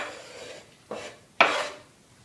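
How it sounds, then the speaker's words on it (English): Shredded meat stirred into broth in a slow cooker: two or three short, wet scraping strokes of a spoon against the crock, close and fairly soft, the last stroke the loudest. "now I'm stirring it back into our broth, into the slow cooker"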